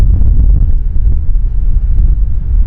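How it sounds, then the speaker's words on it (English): Wind buffets the microphone on an open scenic chairlift at a ski area, a loud, continuous low rumble with no voices. "So I get the wind here, but it's nice, it's beautiful."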